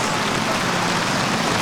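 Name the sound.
rain falling on mini putt course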